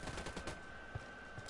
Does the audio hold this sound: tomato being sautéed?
no